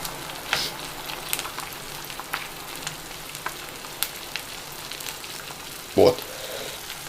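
Bread dipped in batter sizzles in a frying pan for a breakfast sandwich, with soft steady crackle, scattered pops and a brief louder clatter near the end.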